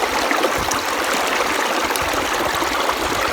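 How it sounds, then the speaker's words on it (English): A glacial river runs just beneath a layer of big rocks a few inches below the surface, a steady, loud, close rush and trickle of water continuing without pause, no voices. "I am right next to a glacial river. I couldn't see it at all, but I could hear it."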